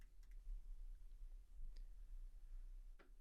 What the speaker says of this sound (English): I'm going to type in the word motivated